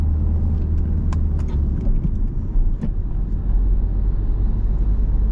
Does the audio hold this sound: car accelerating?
yes